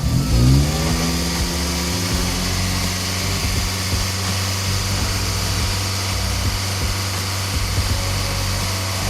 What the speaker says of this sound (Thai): เร่งเครื่อง